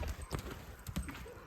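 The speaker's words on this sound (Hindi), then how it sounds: "बढ़िया घोड़ा है" A young stallion walks along, its hooves clopping in an irregular series of close knocks against the ground, with faint voices in the background.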